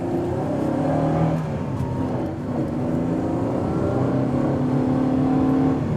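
A 2012 Camaro RS with a V6 engine being driven, its engine droning steadily from inside the car, rising and falling slightly with throttle amid road noise, loud and continuous for the whole six seconds.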